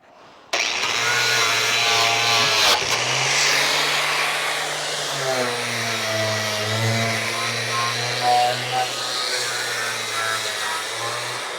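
An angle grinder fitted with a spot wheel works rusty bodywork on a Crew Cab Charger under restoration, starting abruptly with a loud, sustained whine that dips in pitch as the wheel bites and recovers.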